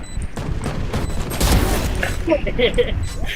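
Gunfire in Valorant, a quick burst of rapid shots followed by scattered pops and mechanical clicks, heard close amid game effects, with a voice talking briefly over it.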